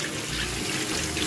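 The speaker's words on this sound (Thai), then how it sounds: "ล้างน้ำ ล้างน้ำให้สะอาดนะคะ" Running water rinses mung beans for sprouting, a steady, close splashing and gushing flow like a tap over a bowl, continuous for the whole stretch with no voices.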